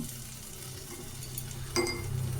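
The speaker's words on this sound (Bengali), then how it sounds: "এবারে আলুটা হালকা ভেজে নিয়ে 5 মিনিট মতন ঢাকা দিয়ে রেখে দেব।" Cut potatoes with salt, turmeric and garlic fry in a pan, producing a faint continuous sizzle with a soft clink of a utensil near the end; no speech.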